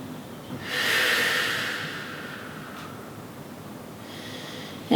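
A slow, deep breath during a yoga stretch on a mat, heard as one long airy inhale-exhale lasting about a second or two, close and fairly loud, followed by quieter room hiss and a faint second breath near the end.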